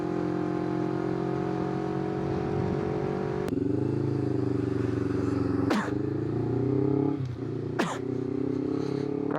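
A Honda CBR 250RR motorcycle cruises on the road with a loud, steady engine drone and wind rush, shifting pitch as the rider changes gears a few times.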